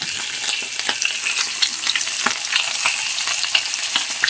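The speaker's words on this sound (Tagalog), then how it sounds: "Ang ganda talaga dito magprito na dito sa grill pan." Food sizzles and crackles steadily in a grill pan over little oil, a dense close hiss with frequent small pops and spits throughout, no voices.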